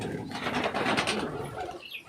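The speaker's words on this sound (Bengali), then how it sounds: "তোমাদেরকে দেখাই, নতুন নতুন পায়রা এনেছি" Newly brought pigeons, including a chila pair, coo close by in a loft, with a brief flutter of wings amid a busy, steady background.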